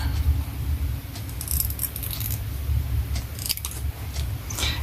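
Close scissors snipping out a paper transfer for a ring binder journal, with a few short crisp cuts clustered in bursts over a low steady room hum and no talking.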